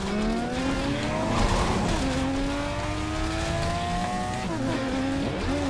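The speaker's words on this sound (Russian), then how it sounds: "Тачка прикольная, она для дрифта классно сделана." A drift car in Garry's Mod screeches its tires in long sustained squeals, pitch sliding up and down as it slides, with engine drone underneath, loud and close with no talk.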